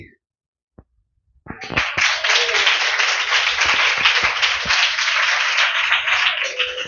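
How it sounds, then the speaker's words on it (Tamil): A church congregation bursts into hand clapping after a brief quiet start, swelling quickly into loud, sustained applause that holds steady with a few distinct claps cutting through. "இந்த கைத்தட்டல் கர்த்தருக்கு கைத்தட்டல்"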